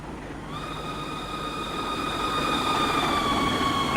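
Doors of a BR423 electric commuter train opening in a Train Simulator 2016 game on the Munich–Augsburg route, with a steady multi-tone warning chime sounding over a continuous low rumble, sustained for several seconds.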